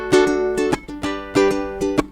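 A ukulele plays a brisk double-time island strum for a song, crisp down and up strokes falling in quick, bright bursts of bright chords, close and alone.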